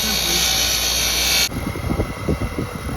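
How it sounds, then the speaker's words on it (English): A steel wire wheel on a power tool grinds against a tree branch to round its edges, a loud steady whine for the first half that drops to an irregular, scratchy rasp with rhythmic bursts as the wood is worked. "I've found that steel wheel works just as nice as anything to round these edges right up"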